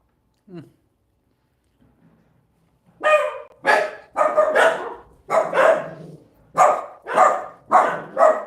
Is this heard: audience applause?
no